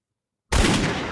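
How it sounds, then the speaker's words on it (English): A pirate ship's cannons fire a volley all at once in an animated pirate tale: after half a second of silence, a sudden loud blast erupts and fades into a heavy rumbling roar. "Every cannon on Dreadfang's ship erupted at once."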